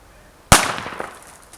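An American-type plastic airsoft grenade filled with corn goes off in a single sharp, loud bang outdoors, then a rustling decay of scattered bits. Nobody speaks.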